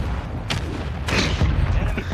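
Gunfire in a first-person shooter resurgence match, likely from a shotgun: a few loud, booming shots with sharp onsets, spaced irregularly over a steady game-sound background, with a player talking over it.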